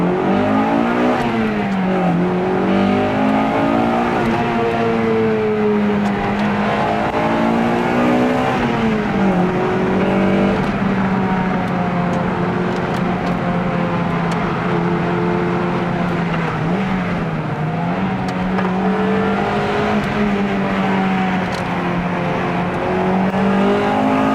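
A 1997 Honda Integra Type R DC2 engine pulls hard on an open road, a loud, continuous close engine note rising and falling through revs and gear changes for over twenty seconds, with no voices.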